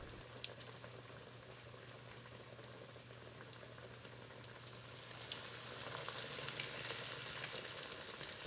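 Chicken cutlets fry in a pan of hot oil with a constant fine sizzle and crackle, close and fairly quiet, growing a little busier toward the end with no talking.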